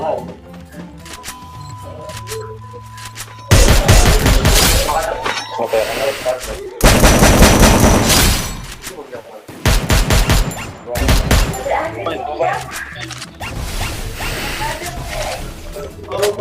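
Gunfire in an esports shooter video game, loud bursts of rapid shots in several clusters with game sound effects between, while players talk over it.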